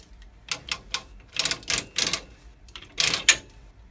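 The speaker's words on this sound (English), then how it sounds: "Click. That's the click I wanted to hear." The metal bar of a quilting frame being locked into place gives a series of sharp, close clicks in uneven bursts, with no talking.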